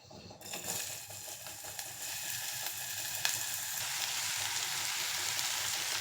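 Bottle gourd pieces sizzling in oil inside a pressure cooker, a steady broadband frying hiss with light crackles that holds at an even level throughout, no voices.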